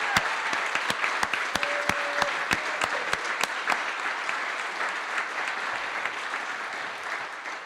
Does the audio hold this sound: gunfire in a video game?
no